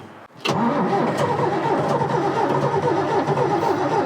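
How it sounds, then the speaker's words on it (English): A bulldozer's engine cranks on weak batteries after its fuel filters were replaced, a steady labouring churn that starts abruptly and runs loud and close without catching. "Boy, the batteries sound weak, too."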